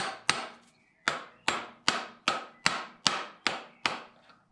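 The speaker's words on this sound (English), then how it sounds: "we're going to tap this in" Around nine sharp metallic taps in a steady rhythm as a socket drives a selector shaft seal into a BMW ZF 6-speed transmission, each tap close and ringing briefly before fading.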